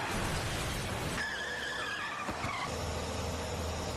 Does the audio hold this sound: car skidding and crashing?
yes